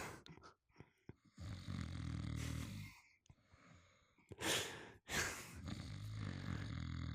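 A man asleep on a couch snores in slow, loud, rasping cycles close to the microphone, each heavy inhale separated by quiet pauses and softer breaths.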